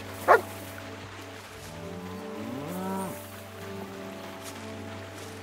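A dog in Kingdom Come: Deliverance 2 gives one sharp bark near the start, then falls quiet under steady game ambience and soft background music.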